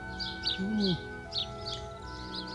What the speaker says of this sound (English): Yeah, look at them birds there.